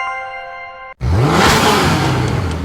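A Mercedes-AMG One sports car revs hard in a loud, close surge of engine roar rising and then holding, cutting in abruptly after a brief steady musical tone.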